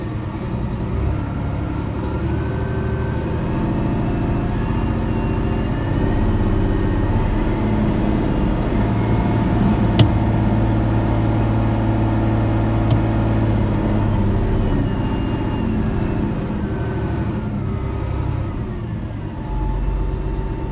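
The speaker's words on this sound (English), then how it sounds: "As I rev the machine up, you see that voltage increase." Big Bertha, a DL550 site dumper with transmission faults, has its engine revved up, a loud, steady low rumble throughout that swells slightly in the middle, with no talk.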